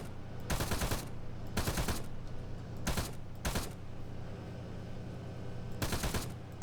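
Vehicle-mounted machine gun fired from the gunner's seat in the video game Arma 3, heard as four or five loud, close bursts of rapid automatic fire separated by short pauses, with a steady engine hum underneath.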